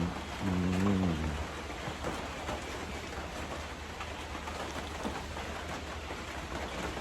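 Steady rain falls as a continuous soft hiss that stays even throughout, with a brief low voice near the start.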